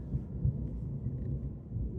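Deep, low rumbling thunder from a thunderstorm rolls steadily and fairly faintly, a muffled continuous growl with slight swells and no talk.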